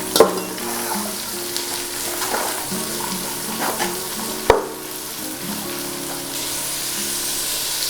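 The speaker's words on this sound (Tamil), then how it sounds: "வெங்காயம் போட்டுடலாம். மிக்ஸ் பண்ணி விட்ருங்க, நல்லா வதக்கிடுங்க." Onions sautéed in a pan with bay leaves for a country-chicken biryani give a steady, close sizzle, broken by a few sharp clatters of stirring and one loud knock midway.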